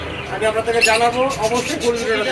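Caged birds and pigeons in a pet shop chirp and coo in a steady busy chatter, partly mixed with voices talking nearby.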